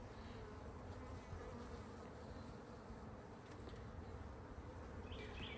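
Honeybees buzz steadily at an open beehive during an inspection, a dense, continuous low drone that stays fairly faint and even throughout, with no talking.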